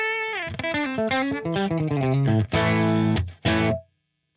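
An electric guitar played through a Tonex capture of a Divided by 13 FTR 37 amp rings out in a distorted run of notes and chords, ending on sustained held chords that cut off abruptly, with no talk.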